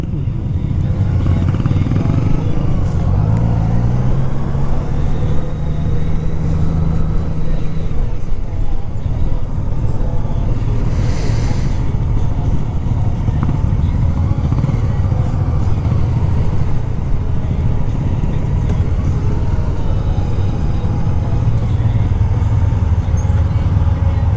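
Steady engine drone and wind rush from a 2017 Honda Goldwing F6B bagger touring motorcycle on a ride, continuous and loud throughout, with road noise and no clear speech.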